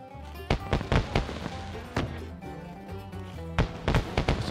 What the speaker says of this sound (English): You see them fireworks, buddy? Looks like there's a party.